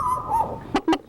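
Woman imitating a small dog, voicing a high whimper followed by three sharp, yappy barks in quick succession, close and fairly loud.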